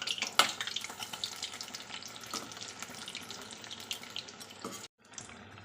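Pumpkin flowers frying in oil over a medium flame make a continuous, fairly quiet crackling sizzle with a few sharp pops near the start, then cut off briefly before resuming.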